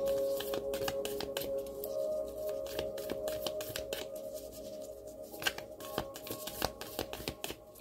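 A deck of tarot cards is shuffled by hand in quick, crisp riffling bursts and soft slaps, close and fairly quiet, repeating irregularly with brief pauses over a faint steady hum.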